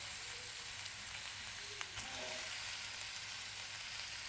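Onions, mild chili and tomato frying in a pan for a quick egg dish, a steady, faint, even sizzle throughout with one brief clink of a utensil.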